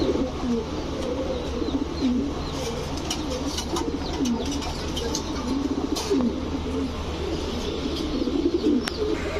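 Super Mili racer pigeons coo steadily in a loft, many overlapping low, throaty calls forming a dense, continuous murmur with occasional faint chirps and wing flutters.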